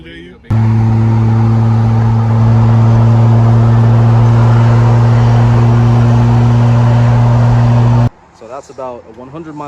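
A Lexus GS300 with a single-turbo 2J engine swap drives down the road, its loud, steady engine drone filling the cabin for several seconds, then cutting off into brief talk.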